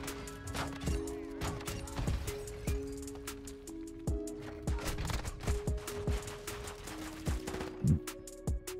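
Rapid blasts from an automatic shotgun in Call of Duty: Modern Warfare II, a dense run of sharp shots and clattering impacts over steady game background noise, close and continuous for several seconds.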